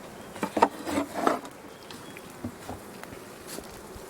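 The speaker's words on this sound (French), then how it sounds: "Donc il y a des abeilles partout." Honeybees at an open beehive during placement of a honey super, a few faint buzzes rising and fading near the start, then a low quiet background with occasional soft taps and rustles.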